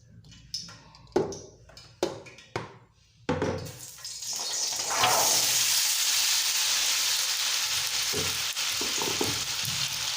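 Oil frying in a pan while cooking Syrian rice with fava beans, opening with a few clinks and stirring knocks before a loud, steady broadband sizzle takes over and holds to the end, with occasional soft knocks underneath.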